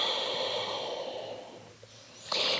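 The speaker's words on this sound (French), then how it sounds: "On expire complètement." A long, full breath out during a standing yoga posture against a wall, a soft, close, airy exhale that fades, then a brief sharper breath at the end.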